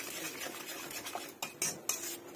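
A spoon scrapes and knocks against a pot while spiced potatoes with salt and turmeric are stirred, quiet scraping building to a few sharp clinks near the end.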